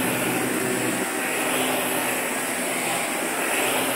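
A Eureka ReadyForce Total robot vacuum cleaner runs over carpet, giving a steady, loud broadband whir and hum that holds constant throughout, close by, with no talk.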